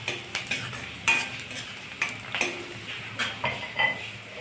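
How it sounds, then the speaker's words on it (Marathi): Onion sautéing to golden in a pan for an ambadi leaf chutney, soft sizzle under repeated clinks and scrapes of a spatula against the pan, fairly quiet and close. "आता आपला कांदा पण सोनेरी कलरवर आला आहे. तर छान परतून घेणे."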